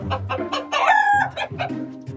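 Chickens inside a chicken coop cluck and let out a drawn-out crowing call, close by and loud, with no talk over them.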